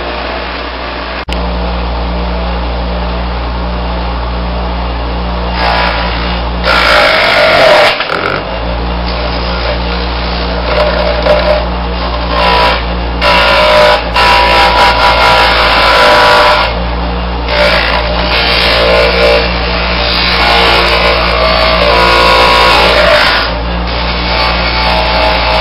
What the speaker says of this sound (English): You just grind it in the wheel and pick up this fine powder.